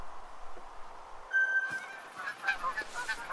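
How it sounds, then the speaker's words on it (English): A large flock of geese, at least twenty birds, flies in honking while hunting in the Hirschfelden reserve of The Hunter: Call of the Wild. The honks are fairly faint and distant, scattered calls over quiet ambience. "I have an absolute massive flock of geese coming in"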